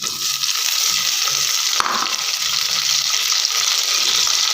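Onions frying with chopped tomato in a pan, being stirred: a steady, close, continuous sizzle with a brief utensil clink partway through.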